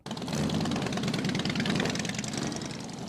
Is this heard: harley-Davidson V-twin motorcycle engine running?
yes